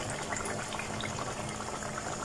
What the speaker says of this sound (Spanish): vamos a colocar la salsa que acabamos de preparar